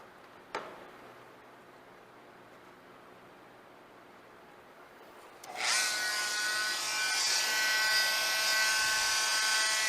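Small reciprocating saw cutting out an MDF nameplate, starting after a quiet pause with a sharp tick, then a steady loud buzzing whine that runs continuously and close by.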